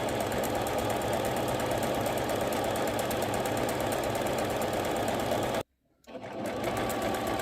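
Sewing machine stitching lace trim and piping onto a pillow, a steady close-up mechanical whir running continuously, cutting out for a brief pause before starting up again.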